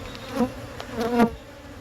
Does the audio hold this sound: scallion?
no